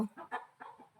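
A voice imitates a rooster's crow, 'kokkarako', in four quick, clipped syllables, faint and close, with no other sound around it.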